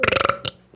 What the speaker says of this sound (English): my just giant belch